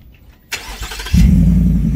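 A 2021 Ford F-150 pickup with a side-exiting MagnaFlow exhaust cranks briefly, then catches and settles into a loud, deep, steady rumbling idle close by.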